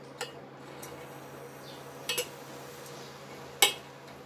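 A utensil stirring black chickpea breakfast mixture in a pan, with a few faint scraping clinks of metal on the pan over quiet background hiss.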